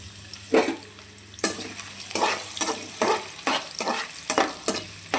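Ginger pieces frying in a pan under a steady sizzle, a spatula scraping and tapping the pan in a loose, repeated rhythm, close and clear with no voices.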